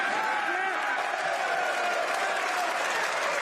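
A political event audience applauds and cheers, steady dense clapping throughout, close and sustained, with a few voices mixed into the crowd noise.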